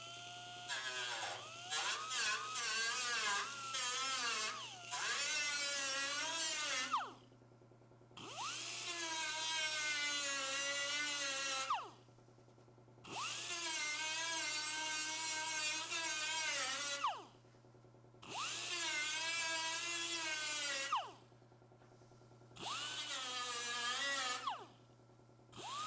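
An angle grinder wheel grinds a weld flush into the parent metal on an Austin-Healey 3000 steel shroud, loud whining passes of several seconds each broken by short pauses, pitch wavering as the wheel bites.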